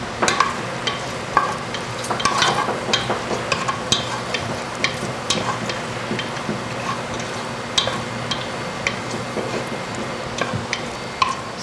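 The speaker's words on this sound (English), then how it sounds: "we're just watching bacon cook for a minute" Bacon frying in a pan sizzles steadily up close, with a constant hiss broken by many small irregular pops and crackles.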